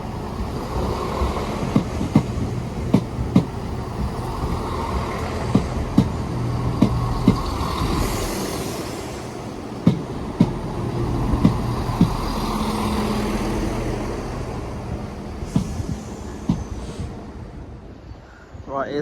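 Chiltern Railways Class 168 diesel unit arriving at Leamington Spa station, a steady rumble of the train rolling in with rhythmic clicks and clunks from the wheels over the rail joints, continuing and fading away near the end.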